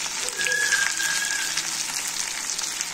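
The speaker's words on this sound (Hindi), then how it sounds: "पहले प्याज डालूंगी इसमें मैं। जब प्याज भुनी जाए वो बात फिर बीन्स भुनू" Home-grown onions sizzle in a pan over a fire, a steady, close hiss of frying that carries on evenly throughout with no one talking.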